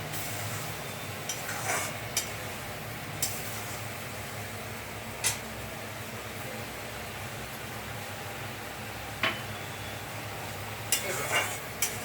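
Eggplant pieces sizzle in hot mustard oil, a steady soft frying hiss punctuated by a few sharp clinks and scrapes of a spatula against the pan.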